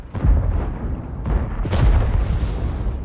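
A tank cannon fires in World of Tanks, a loud booming blast with a rumbling low-end tail, followed by another heavy burst of battle noise, with no speech.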